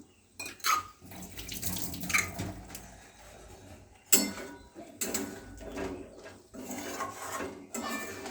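Water mixed with yogurt poured into a cooking pot in a few short splashing bursts, close by, with a clatter of a vessel, faint birdsong and a quiet hum in the background.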